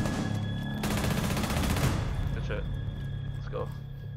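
A player empties a full magazine in a competitive shooter video game: one fast, continuous burst of rapid shots lasting about a second, heard under ongoing player talk and game ambience.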